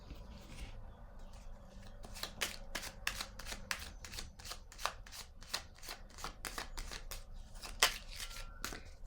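Tarot cards being handled and shuffled, a steady run of crisp riffling snaps and flicks, close and fairly quiet, with no talk over it.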